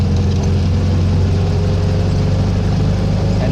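A VW 1600 engine pulls away steadily in third gear without a downshift, a loud, continuous low droning rumble with even harmonics holding through the whole stretch, no voices over it.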